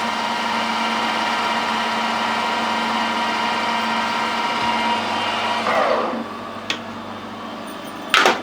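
A metal lathe spinning at 1000 RPM while turning a small part for a steam boiler safety valve, a steady hum with a tonal whine, then the cut eases and brief clicks and knocks follow near the end.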